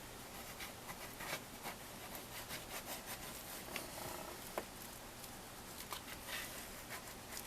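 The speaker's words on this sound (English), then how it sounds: "Let me lay it down flat so I can get a good burnish on it" A tool is rubbed firmly back and forth across a flat-laid crafted journal cover to burnish it, giving a steady run of close, soft scraping strokes with no talking.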